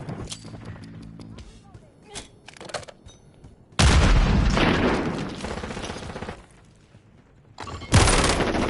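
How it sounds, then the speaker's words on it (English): A Semtex grenade blast and gunfire in a Call of Duty match: a sudden loud explosive roar that decays over a few seconds, followed by another burst, after scattered lighter shots and game noise. "Throwing Semtex."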